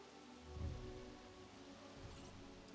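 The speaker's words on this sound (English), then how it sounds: "Oh, it's raining." Rain falling in the dinosaur park-building game Jurassic World Evolution, a steady soft patter across the whole span with a slightly fuller swell near the start, faint and without talk.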